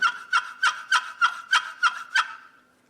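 A turkey gobbles in a rapid run of eight sharp, evenly spaced calls, loud and close, then trails off into quiet.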